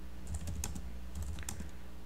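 Quick keystrokes on a computer keyboard type out a question, two short clusters of close, crisp taps over a low steady hum.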